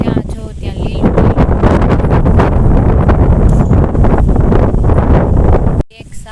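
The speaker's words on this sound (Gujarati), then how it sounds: "મસ્ત ઠંડો ઠંડો પવન આવે છે" Cool wind blows outdoors across green fields, buffeting the microphone with a loud, steady roar for about six seconds before dropping away abruptly near the end.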